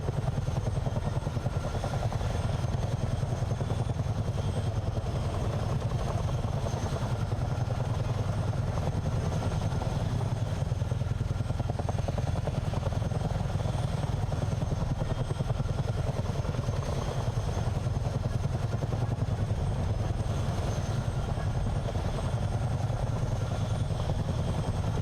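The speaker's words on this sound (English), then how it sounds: "we're in the Black Army Chinook" Heavy twin-rotor drone of a black Army CH-47 Chinook helicopter in Microsoft Flight Simulator, flying up the Potomac River, steady and loud throughout with a deep low-end thrum and no talking.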